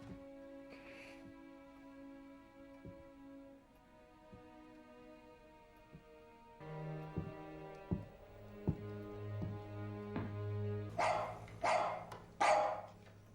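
Dog barking in a World War II TV drama scene, a few sharp barks near the end over low background music, fairly distant and moderately loud, with no speech.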